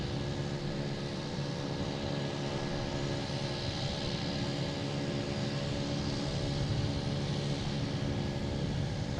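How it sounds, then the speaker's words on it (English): Delta A330-900 airliner idling with engines running at Boston Logan, a steady, moderate broadband whine and hum with faint tonal lines, unchanged throughout with no talk. "we have a Delta A330-900 in the back. Turned on."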